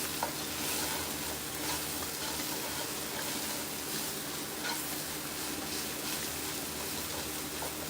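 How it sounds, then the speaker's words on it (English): Shrimp sautéing in a hot pan, a steady soft sizzle and frying hiss running throughout at low volume, with faint ticks as they shift in the oil and no talking. "we'll get these good shrimp a nice little saute"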